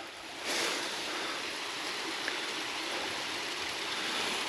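A tributary of Adkins Creek flows steadily near a canyon waterfall, a broad, continuous rushing wash of water heard close and fairly loud, unbroken across the whole stretch with no voices.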